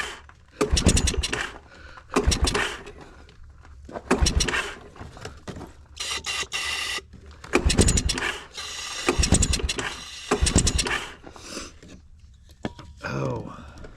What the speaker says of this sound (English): Starter's dragging.